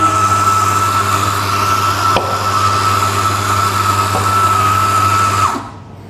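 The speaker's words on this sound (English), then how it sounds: "we've got this lovely Malkonik 64 WS grind by weight grinder" Mahlkönig E64 WS grind-by-weight coffee grinder runs with a loud, steady motor whine for about five seconds, then cuts off abruptly.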